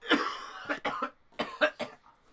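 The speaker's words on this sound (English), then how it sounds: "I was trying to talk through the cough." A burst of harsh coughing, several rough coughs in quick irregular succession, close and fairly loud, with a throat-clearing quality.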